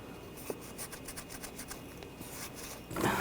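A rag wiping the back of a throttle body from a 2004-2012 Chevrolet Colorado 3.7L, making soft close rubbing and scrubbing strokes that end in a louder rough burst.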